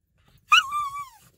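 A female dog whimpers in excitement before doggy daycare, giving one close, high, drawn-out whine that slides downward and fades out.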